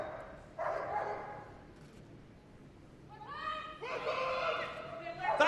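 An RAF detection dog gives a few sharp barks and yelps, fairly close, with some whining between them over a steady outdoor background.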